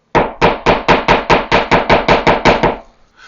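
The butt of a 15-in-1 painter's tool is hammered into a small hole in a wall, about a dozen sharp, evenly spaced knocks, loud and close, each with a short ring, before stopping.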